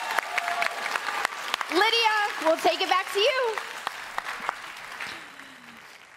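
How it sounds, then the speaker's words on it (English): Audience applause at a live Minecraft convention broadcast, a brief burst of clapping under an onstage host speaking, giving way to quieter talk. "let's give a final round of applause for our amazing guests"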